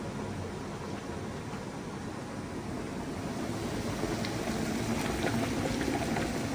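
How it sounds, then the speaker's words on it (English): Steady, dense bubbling of maple sap at a rolling boil in an evaporator pan, a continuous hiss and crackle with no pauses, fairly close. "Still boiling away."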